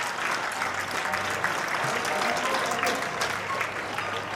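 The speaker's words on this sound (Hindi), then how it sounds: "एक बार जोरदार तालियां" An audience at a school alumni meet in Mandsaur bursts into steady, even applause that holds at a constant level throughout, with a faint murmur of voices underneath.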